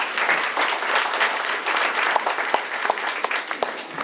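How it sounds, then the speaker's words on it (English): A room full of people at a holiday special claps for the performers, giving steady, fairly close applause with a few sharp, distinct claps near the end. "Let's give everyone a nice round of applause."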